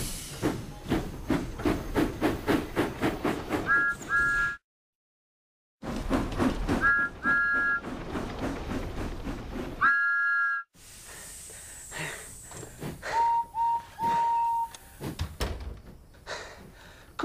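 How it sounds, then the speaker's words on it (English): A steam locomotive whistle toots in several short paired blasts between bursts of rhythmic hissing steam and chuffing, with a brief silent gap, then a lighter, higher toot later on. "Oh, and there's Henry's whistle."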